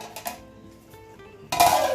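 A metal lid set down over a pot on a stove in a home kitchen, with small clinks of cookware followed by a louder clattering contact near the end.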